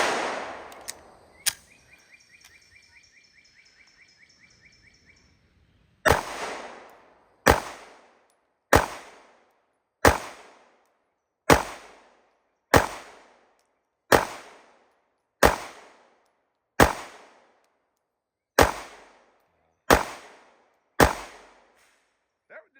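An H&K CC9 pistol fitted with a red dot sight fires eleven loud, sharp shots at an outdoor range, evenly spaced about one per second, after a few seconds of quieter handling clicks and a brief early pop.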